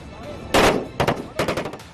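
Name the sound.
machine gun fire during army combat training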